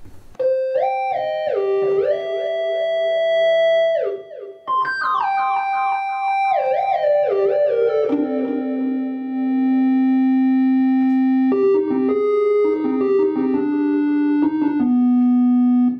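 Synthesizer patch from the Alchemy software instrument played through a Zoom U24 audio interface, sustained tonal notes with sliding pitch steps and chord changes, loud and continuous with no talk.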